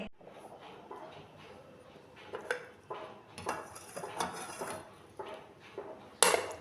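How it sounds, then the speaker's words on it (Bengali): A spoon whisks sour yogurt in a small bowl, with irregular clinks and scrapes against the bowl, some louder taps near the end, and quiet background otherwise. "আমার দইটাকে ভালো করে ফেটিয়ে নেওয়া হয়ে গেছে"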